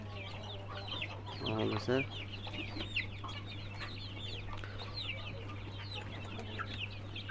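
Chickens in a hot indoor room cluck and pant steadily over a constant low electrical hum, with one louder call standing out briefly; a person speaks a single word.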